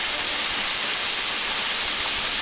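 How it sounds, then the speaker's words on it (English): Waterfall at Myra Falls roars as a steady, dense broadband rush of falling water, continuous and fairly loud with no voices over it. "There's the waterfalls"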